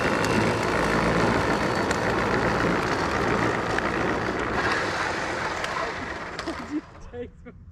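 Electric motors of a 2020 Power Wheels Dune Racer running on 18 volts, a loud, steady whirring drone that holds for several seconds, then fades out toward the end.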